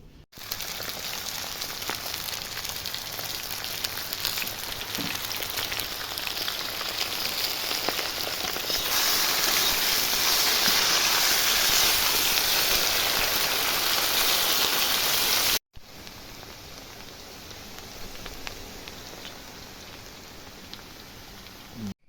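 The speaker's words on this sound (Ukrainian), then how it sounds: "будемо смажить картоплю" Steady sizzling and crackling of potatoes frying in a pan, loud and continuous, briefly interrupted before the frying resumes a little quieter.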